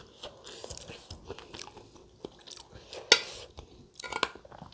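Bites and chews of egg come in close, intermittent crunches and soft mouth sounds, with a sharp louder bite partway through and faint clinks of dishes in a quiet room.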